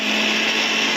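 Mixer grinder jar grinding ripe tomatoes for tomato rice, a loud, steady, unbroken high whirring motor drone heard close up with no talking.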